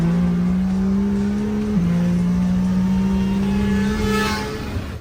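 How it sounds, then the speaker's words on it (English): A boosted motorbike engine screams at full throttle, a loud sustained high-pitched drone that holds steady with brief dips between gear changes before easing slightly at the end. "Artist Fast absolutely blasting boosted bike"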